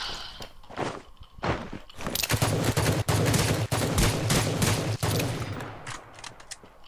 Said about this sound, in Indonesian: Tembak lagi ni.